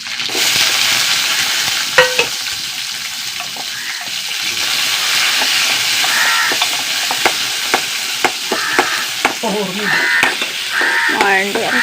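Dried red chillies, curry leaves and small shallots crackle and sizzle loudly in hot oil with mustard seeds, a dense close hiss broken by sharp pops and a few spoon knocks, with faint voice sounds near the end.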